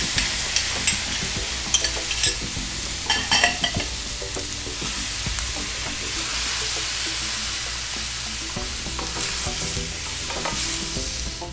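Chopped tomatoes hit a hot pan with scallops for a Moroccan seafood dish and fry in a loud, continuous sizzle, with scraping stirs and utensil clinks breaking through now and then.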